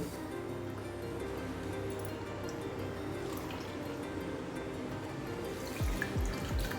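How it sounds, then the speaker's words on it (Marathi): Split moong dal (mung lentils) being rinsed in water, with a steady low wash of trickling and dripping sounds and a few louder splashes near the end. "ही डाळ आपण स्वच्छ अशी तीन पाण्याने धुवून घेणार आहोत"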